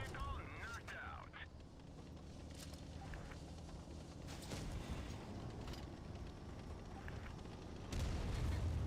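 A tank fires a HESH shell in a tank combat video game: scattered booming shots and mechanical clatter sit over a low rumble, with a heavier blast swelling near the end.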